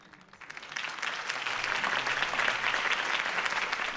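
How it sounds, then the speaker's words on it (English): Crowd applause at a campaign speech in Batman: The Telltale Series, swelling quickly from quiet to a dense, sustained clapping that holds steady, moderately distant. "could have heard that applause"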